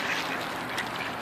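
Ducks being fed at a park quack steadily up close, a dense overlapping chatter of calls with brief louder bursts, no voices over them.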